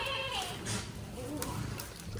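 A Shiroli buck goat on an Indian goat farm bleats in short calls over a steady rustling farmyard background, with a voice faintly present.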